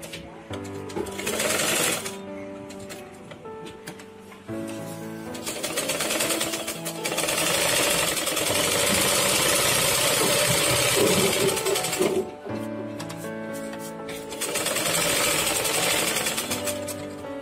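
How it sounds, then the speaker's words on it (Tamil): Sewing machine stitching a hook strip piece, loud close mechanical whirring in several runs with short pauses between, the longest stretch in the middle. "படிமான தையல் போட்டு ஃபுல்லா அந்த பீஸை மடிச்சிடுறோம்"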